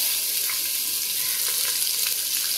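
Sliced onions for egg biryani sizzle in oil inside a pressure cooker, a dense steady frying hiss that stays close and even throughout, with no voices.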